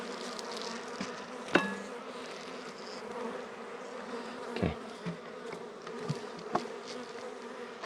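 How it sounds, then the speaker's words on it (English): Honey bees buzzing steadily around an apiary hive, a continuous close drone with a few sharp knocks and brief thumps, and a short spoken word. "My bees don't even like me."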